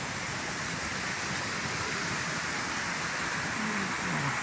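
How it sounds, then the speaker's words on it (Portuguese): Heavy rain pours steadily on a rural smallholding with orange trees, a dense, even hiss that stays constant and close throughout with no voices. "Vamos mostrar aqui mais para vocês verem como é que a chuva continua."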